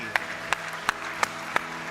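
A church congregation claps in unison, five sharp, evenly spaced claps at a brisk steady beat over low background sound.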